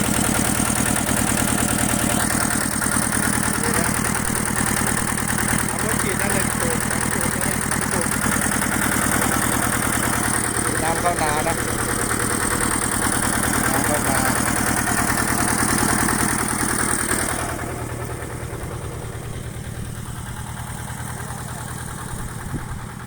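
A Kubota ET 14 hp two-cylinder engine runs steadily while pumping water into a rice field, a constant close mechanical drone with voices talking over it, dropping somewhat in level near the end.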